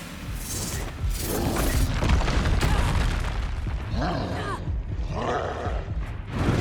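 Confringo fire-blast spell cast in the Hogwarts Legacy video game, a loud rumbling burst of booming, crashing impacts mixed with game effects and a character's voice, sustained across the clip.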